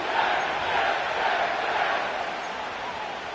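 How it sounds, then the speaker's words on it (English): A stadium crowd in an EA Sports football video game roars and cheers in a steady, dense wash of noise that holds at an even level throughout, with no single voice standing out. "The crowd is definitely ready."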